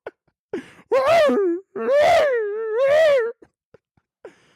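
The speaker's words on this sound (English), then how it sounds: "you hear a faint barking in the distance" A dog howls in three long, loud, wavering wails, each rising and sagging in pitch, with short sharp yelps before and after, close by with no talk over it.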